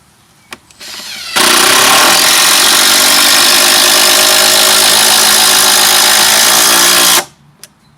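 Makita DTD171 purple impact driver sinking a 5-inch screw without a pilot hole: a loud, continuous hammering whir that runs steadily for about six seconds after a brief trigger rev, then cuts off abruptly.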